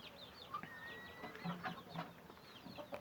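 A purebred Indian Aseel rooster clucks in short, repeated calls close by, with a few higher squawks scattered through a quiet yard.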